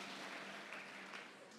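Audience applause at a Kenyan political gathering with an MP addressing the crowd, a steady, dense wash of clapping that holds evenly throughout, slightly distant and diffuse.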